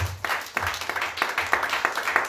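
A church congregation applauding together at a French-language worship service, a quick rhythmic burst of clapping at a steady beat, close and lively, with a faint voice underneath.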